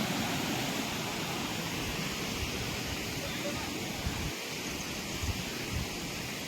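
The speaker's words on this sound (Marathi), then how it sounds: "बघा मित्रांनो कसा हा धबधबा मस्त पाणी वाहते कसा आवाज आहे पाण्याचा" Monsoon waterfall at Dhangar falls near Savroli village, Badlapur, pouring in a steady, unbroken broadband rush that fills the whole span, with a voice speaking faintly over it.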